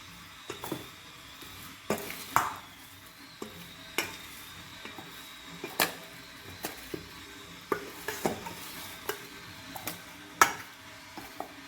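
A spoon scrapes and clinks against a pan while fish curry is stirred, with irregular sharp knocks every second or so over a faint steady sizzle, close and fairly quiet.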